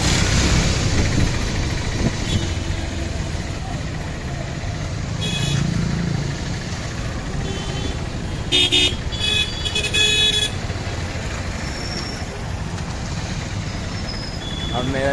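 Car driven along a road in India at around 110 km/h, giving a steady rumble of engine and road noise throughout, with a few brief horn toots and people talking inside the vehicle.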